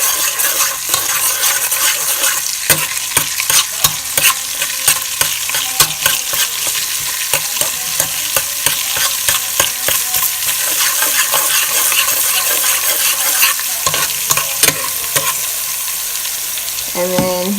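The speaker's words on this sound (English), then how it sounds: "You're basically going to stir up your seasoning in here, your Epis, in the oil with your spoon." Haitian epis seasoning stirred in hot oil in a pot with a metal spoon, loud continuous sizzling overlaid by rapid, repeated clinks and scrapes against the pot that carry on for many seconds, no voices.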